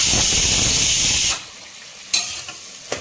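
Onions frying in oil for a Sunday mutton biryani: a loud, steady sizzle, with stirring, fills the first part, then drops to a quieter hiss broken by brief spatters and stirring scrapes.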